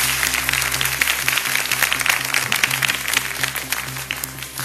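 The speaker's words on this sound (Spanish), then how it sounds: "Un aplauso para ella." A studio audience applauds a guest arriving on a Spanish-language TV game show, a steady, dense wash of clapping lasting throughout, with a low sustained tone running underneath.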